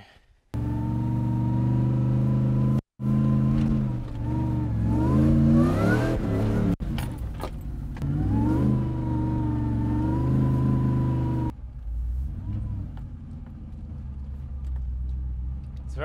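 Car driving up a soft dirt jump, a loud close engine revving and labouring with rising and falling pitch through gear changes, a brief cut, then easing off to a lower rumble near the end.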